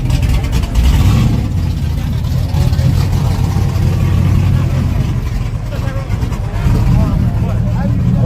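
A truck engine rumbles steadily nearby with low droning power, partly revving, while people talk over it throughout.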